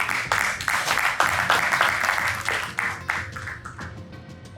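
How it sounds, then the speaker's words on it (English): Audience applause fills the hall at a leadership summit on capital for national development, a dense steady clapping that stays loud throughout and tapers slightly near the end. "Please, can we give a round of applause?"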